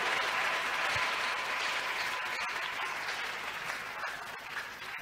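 A church congregation claps together in sustained, dense applause that stays fairly loud and slowly fades a little toward the end. No one speaks over it.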